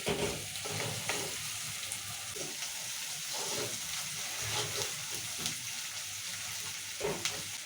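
Bottle gourd curry pieces frying in oil, a steady close sizzle with repeated stirring scrapes and clinks of a spoon against the pan, no voices.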